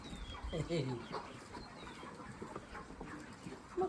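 A hen clucks in short bursts nearby while people talk softly in the background.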